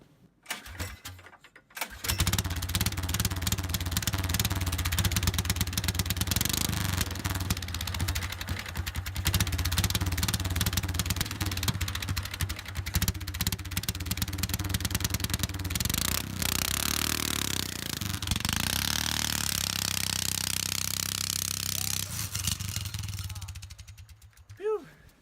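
A 9-horsepower engine swapped into an Arctic Cat Kitty Cat snowmobile roars to life, runs hard and revs up and down for about twenty seconds, then quickly dies away to quiet.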